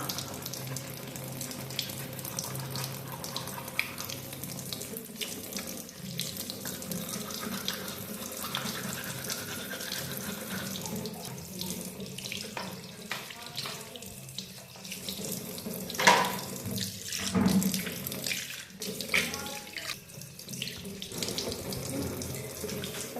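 Water runs steadily from a bathroom tap into a sink during a morning face wash, a continuous broadband splash lasting throughout with a brief louder surge near the middle.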